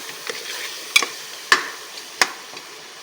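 Masala being stirred into mutton biryani, with several distinct scraping clacks of a spoon against the pot over a low steady background hiss.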